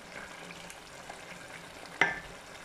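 Cassava leaves cooking down in coconut milk, a Mayotte dish near the end of cooking, crackle softly in the pot, then one sharp spoon scrape against the side.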